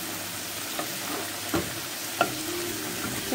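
Minced meat frying in a pan for pasta bolognese is stirred, giving a few brief scraping strokes over a steady, low sizzle with no talking.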